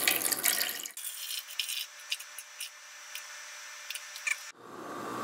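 Water pours steadily into a bowl for making old dough (pâte fermentée), a continuous close trickle and splash lasting about three and a half seconds between quieter handling noises before and after.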